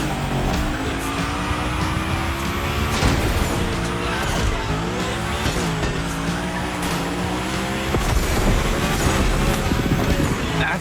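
Car sliding with tire squeal in the racing game The Crew Motorfest, during a gymkhana drift challenge; a steady engine roar with rising and falling skid squeals runs throughout, loud and continuous, mixed with game music.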